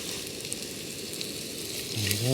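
Chorizo sausage sizzles and crackles steadily in a pan at an outdoor solo campsite in Selmun, Malta, a close, even frying hiss with a brief low voice near the end.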